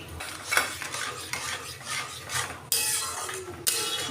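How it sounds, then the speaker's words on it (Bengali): Semolina and sugar being stirred into a soft dough in a pan over low heat, with repeated scraping and rubbing strokes at an uneven rhythm and a couple of sharper knocks against the pan. "আমি গ্যাসটা কমিয়ে দিয়েই আস্তে আস্তে আমি একটা নেড়ে একটা নরম ডো বানিয়ে নেব"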